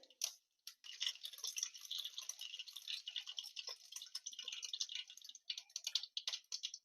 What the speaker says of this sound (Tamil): கடுகு நல்லா பொரிஞ்சதும்